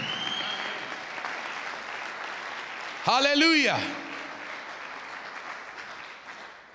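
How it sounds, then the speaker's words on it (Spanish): A church congregation applauds steadily through a sermon, the clapping filling the space as a voice shouts out briefly partway through before the applause gradually fades. "Alguien aplauda a Dios, y Él va delante de ti."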